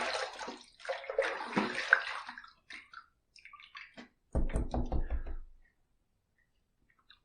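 Running water splashes from a sink tap as a razor and face are rinsed after a shave with a Parker 78R, in uneven bursts and pauses, ending in a louder, fuller gush that stops abruptly.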